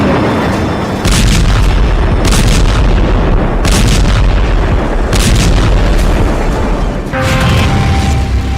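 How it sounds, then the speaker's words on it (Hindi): Heavy bomb blasts from an Israeli airstrike on Rafah, Gaza: four or five loud, deep booms arrive roughly every one and a half seconds over a constant rumbling roar, with no voices. "इतनी बड़ी इंसानी आबादी पर इजराइल 2000 किलो बम गिरा रहा है"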